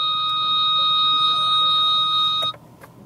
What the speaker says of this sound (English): Oh, yeah, that's the front beeper.